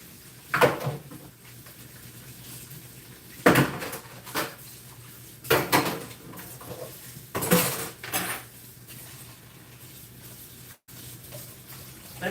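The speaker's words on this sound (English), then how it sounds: "I'm just washing up the dishes I use." Dishes and cutlery used for cooking stewed fish are washed in a kitchen sink. Loud, clattering bursts of plates, pans and utensils knocking together come at irregular intervals over a low steady background, with no talk.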